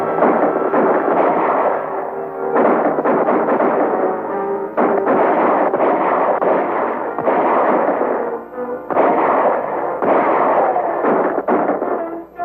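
Gunfire in a western film shootout, a loud and dense run of booming shots and blasts lasting several seconds, broken only by brief lulls.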